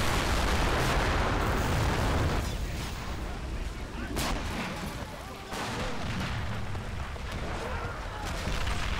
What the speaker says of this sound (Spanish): Bien, fuego aquí. Y el mortero.